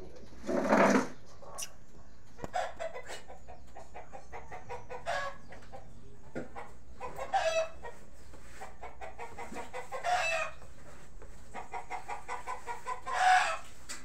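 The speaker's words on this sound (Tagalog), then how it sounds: "So ang ingay ng manok guys." Chickens and roosters in a yard cluck repeatedly at moderate distance, with short crowing bursts rising every few seconds over a faint steady background hum.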